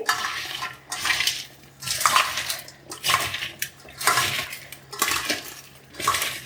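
Chopped bitter gourd is tossed by hand with salt and turmeric in a bowl, making about six rhythmic scraping, clinking strokes roughly a second apart.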